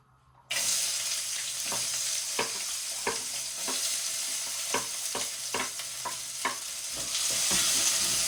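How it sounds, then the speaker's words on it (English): Onions hit well-heated oil in a single pan with a sudden loud sizzle, then keep frying steadily while a utensil scrapes and stirs in regular knocks, the hiss swelling toward the end. "after your oil is well heated up, you're going to add in your onions"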